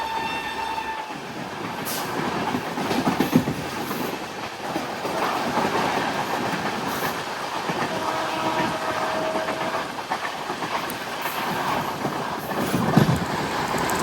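The 02134 Jabalpur to Bandra Terminus summer special superfast express passes steadily with a continuous rumble and clatter of wheels, a horn sounding near the start.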